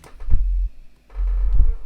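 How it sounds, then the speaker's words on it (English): Two deep, sustained brostep sub-bass synth notes run through a saturator, each starting with a soft thump and humming low, separated by a brief gap of near silence. "This is the sub bass. This sounds like this."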